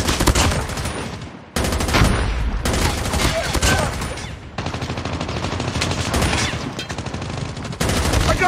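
Loud, dense bursts of automatic gunfire from the Call of Duty video game, rapid overlapping shots in several long volleys separated by brief breaks.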